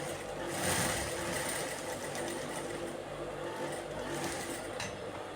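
A sewing machine stitches an invisible zip with a steady, continuous mechanical whir and hum that runs throughout without pause.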